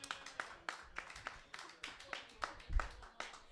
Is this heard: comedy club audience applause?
yes